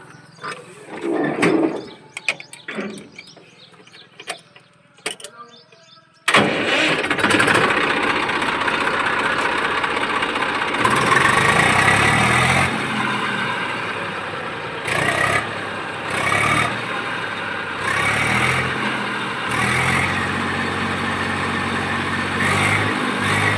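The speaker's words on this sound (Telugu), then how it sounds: "ఒకసారి మీకు చార్జ్ చేసి చూస్తా ఇంజన్ కండిషన్ ఒకసారి చూడండి" An Eicher 380 tractor engine cranks over after a few scattered knocks, catches and settles into a loud, rough diesel idle with occasional revving surges.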